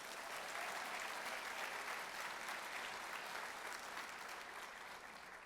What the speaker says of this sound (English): Let's give one last round of applause to these wonderful SEAHO mentors